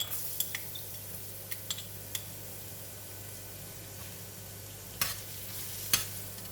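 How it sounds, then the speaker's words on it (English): Garlic sizzles in hot cooking oil in a pan, a steady close frying hiss throughout, with occasional clinks of a utensil stirring against the pan. "Oil is getting hot. I'm putting in the garlic."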